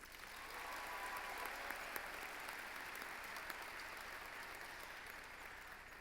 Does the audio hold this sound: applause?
yes